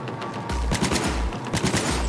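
Smart-bullet gunfire in Cyberpunk 2077 cracks out in a quick string of sharp, loud shots, several bursts close together with brief gaps between them.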